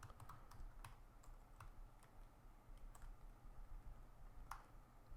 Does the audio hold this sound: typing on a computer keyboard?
yes